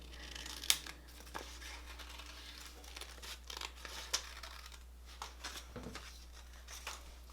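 Scissors make quiet, irregular snipping and crinkling cuts through paper or film for an acrylic monoprint, soft close clicks scattered over a low steady hum.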